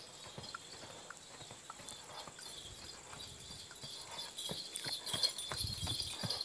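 Hooves of a horse clip-clop at a walking pace, faint and fairly distant at first, then growing a little louder toward the end.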